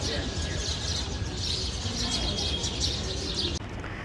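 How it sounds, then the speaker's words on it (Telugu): Sparrows in date palm trees at the entrance of a dargah, a dense ongoing chorus of chirps and twitters, fairly loud and continuous amid outdoor background noise. "ఆ చెట్ల మీద పిచ్చుకలు చాలా గోలగోలు చేస్తాయి,"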